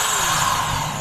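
An electric grinder with a seized bearing, now repaired, runs steadily after being plugged in, a loud close whine and motor drone holding even for the whole moment.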